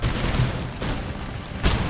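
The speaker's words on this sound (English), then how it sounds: "Near misses on the demi cannons." Demi cannon artillery firing in the strategy game Empire Total War, with dense rumbling battle noise and a couple of sharper booms standing out over the continuous din.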